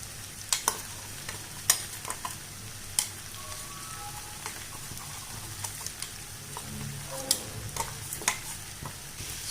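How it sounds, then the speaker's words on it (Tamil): Peanut powder being stirred into cooked bottle gourd in a pan, with a spoon scraping in short, irregular strokes over a soft, steady sizzle. Nobody speaks. "இதில் இந்த பவுடரை சேர்த்து கிண்டி விட்டுக்கலாம்"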